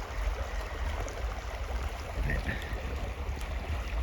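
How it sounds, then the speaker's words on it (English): River water runs beneath a sheet of ice, a steady, continuous rushing wash of flowing water heard close and alone, with no talking. "the water's running underneath the ice, and you can see it's running to the side of the ice over there"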